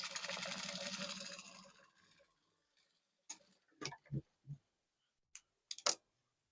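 A sewing machine top stitches the cup area of a milkmaid dress: a fast, close mechanical whirring run at first, fading out, then scattered clicks and ticks from the machine.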